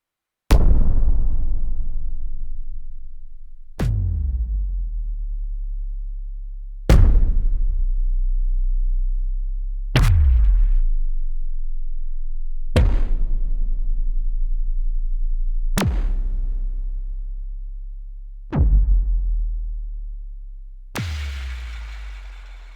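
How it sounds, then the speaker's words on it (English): A synthesized dubstep crash from a DSI Tempest hits eight times at regular intervals, each a sharp bright attack decaying into a long reverberant low boom. "This is another dubstep type of crash."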